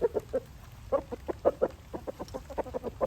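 Free-ranging roosters out in the rain give a run of repeated clucks and short calls, close and fairly loud over a steady patter of rain, with no clear full crow standing out.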